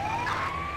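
Ambulance siren in the video game GTA 5, a short rising electronic wail heard briefly over a rumbling noisy background.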